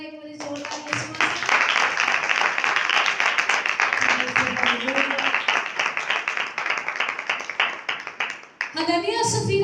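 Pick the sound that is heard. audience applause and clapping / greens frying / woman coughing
audience applause and clapping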